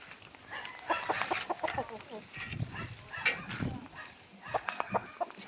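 Chickens cluck and squawk in short bursts around the yard, mixed with someone talking close by and scattered outdoor noise.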